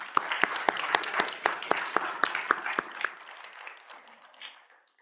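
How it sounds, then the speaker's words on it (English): Audience at a community energy planning session applauds the panelists: a burst of dense, crisp clapping that fades steadily over several seconds into near quiet. "Please join me in giving our panelists a warm round of applause."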